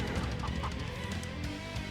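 A chicken clucking in the video game Cthulhu Saves Christmas, a few short, faint clucks buried under dense game music and effects.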